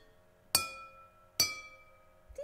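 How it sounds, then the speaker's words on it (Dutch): A pencil taps glasses holding different amounts of water, giving two clear ringing clinks about a second apart, each with a lingering bright tone, then a softer third knock at the end, with no talking. "Als je dan met een potlood, dat hebben jullie ook wel, op de glazen tikt, dan is de klank anders."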